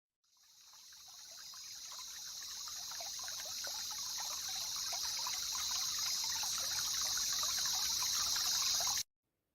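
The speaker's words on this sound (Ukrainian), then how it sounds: "Так звучить вода в річці." River water flowing steadily in a continuous trickling, babbling stream, fading in at the start and holding an even, close, moderately loud rush until it cuts off abruptly.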